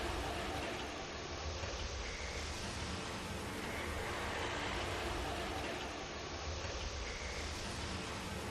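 Steady, unbroken rumble of a train in the video game Lightning Returns, a dense continuous wash with no voices over it.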